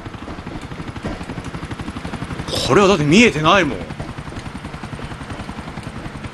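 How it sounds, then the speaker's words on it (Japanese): Steady rhythmic rotor chop of a helicopter passing overhead in GTA IV, loud and continuous throughout, with a voice briefly speaking over it midway. "ヘリ飛んでる、怖い、ヘリ飛んでるけどこれ見えないよね"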